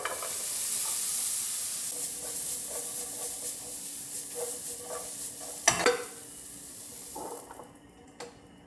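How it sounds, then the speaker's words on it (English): Finely chopped zucchini sautés in a nonstick pan with a steady hissing sizzle, broken by a loud clack of utensil against pan near the end, then the frying fades to a quieter hiss. "I'm going to give it a quick saute"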